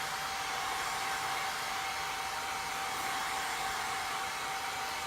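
Steady, loud blowing of a nearby hair dryer, an even airy roar with a faint whine that never changes.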